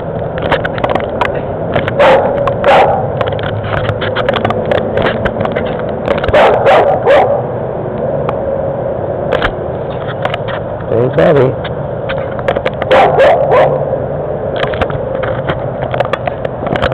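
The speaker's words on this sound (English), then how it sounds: "Big dogs." Big dogs bark repeatedly in bursts, with some yips and whimpers mixed in, loud and close, while a person talks over the commotion in a rural setting near Austin, Texas.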